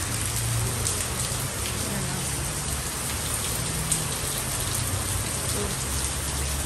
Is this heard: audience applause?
no